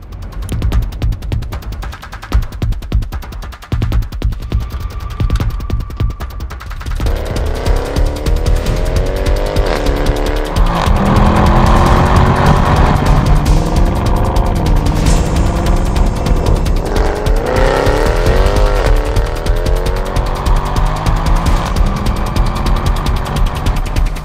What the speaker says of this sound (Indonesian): sekarang kita langsung coba Black Series yang menggunakan mesin katanya kuat ini